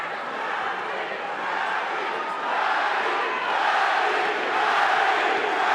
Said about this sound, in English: Crowd chanting, Manny, Manny, Manny, as we expected.